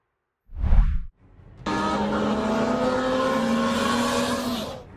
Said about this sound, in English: You can see a car racing down the road at lightning speed.